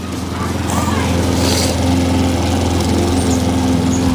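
A go-kart's stock 212 engine with stage 1 parts, header, exhaust and cold air intake drones steadily nearby, a constant buzzing idle that holds level throughout.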